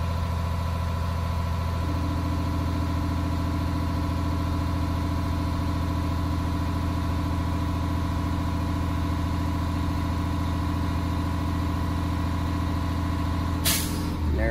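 A truck's air brake compressor runs steadily with the engine idling, a continuous loud mechanical drone and hum building pressure, then a brief sharp hiss near the end as the governor cuts out.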